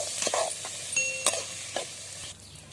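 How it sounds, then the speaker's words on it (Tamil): Beaten country chicken eggs stirred and sautéing with softened onions in a pan for a pepper fry, steady close sizzle with several spatula scrapes and taps. "நம்ம கலக்கி வச்சு இந்த முட்டை இதில் சேர்த்துக்கலாம். இப்போ சேர்த்து நல்லா வதக்கிக்கலாங்க."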